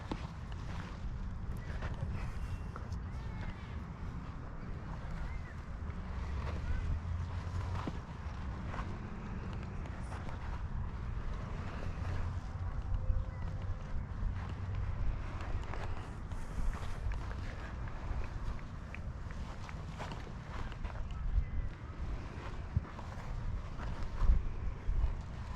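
Gusty wind buffeting outdoors at a hilltop flying spot, a continuous low rumbling roar that swells and eases in gusts, with occasional faint knocks and no clear talk.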